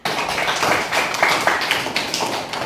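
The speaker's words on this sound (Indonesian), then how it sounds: "Tepuk tangan." A classroom of children claps in steady, overlapping applause, a dense patter of hand claps that holds at an even, fairly close level for the whole stretch with no talking.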